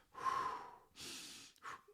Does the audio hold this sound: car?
no